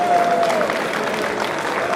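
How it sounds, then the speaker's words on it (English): At a UGA Spring Open superfights event, a crowd gives the timekeepers a round of applause, a steady dense clapping that fills the room with a few voices mixed in. "A big round of applause to all of them for keeping this moving today"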